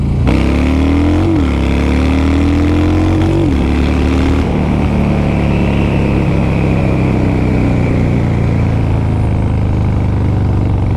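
A Harley-Davidson Street Bob motorcycle in first gear revs hard and loud, its pitch climbing and dipping in a few surges before settling into a sustained heavy roar, close up.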